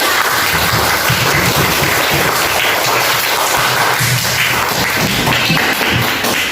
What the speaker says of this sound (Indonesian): Ya, tepuk tangan dulu buat kita semua